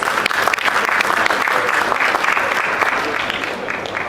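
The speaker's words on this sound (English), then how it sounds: "Please give him a very warm round of applause." Audience applause fills a product launch event for the Realme XT smartphone in Pakistan, a dense, steady burst of clapping from a crowd that stays loud and even for a few seconds.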